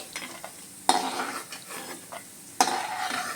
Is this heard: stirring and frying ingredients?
yes